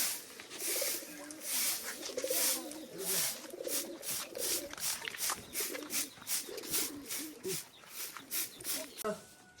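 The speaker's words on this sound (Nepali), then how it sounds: "परेवालाई पनि चारो दिनुपर्ने" Pigeons in a Nepali village coo while being fed grain, a soft, steady murmur of calls heard close by, with voices and other background activity mixed in throughout.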